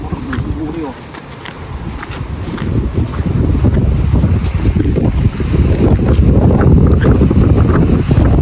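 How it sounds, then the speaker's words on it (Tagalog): Strong wind roars and buffets the microphone continuously, with water sloshing underneath. "Nakakalakas ng hangin."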